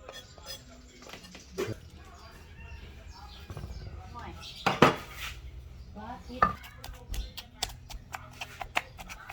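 A stone pestle pounds sticky northern Thai larb made from freshwater fish in a mortar. The irregular dull thuds and clinks are close by, with a louder cluster of hits midway and quieter knocks around them.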